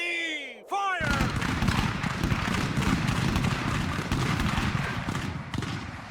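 Black-powder musket volley from an infantry line in an American Revolution strategy game, a sharp crackling burst of massed shots followed by several seconds of dense, rolling fire and rumble, loud and close after a brief shouted command.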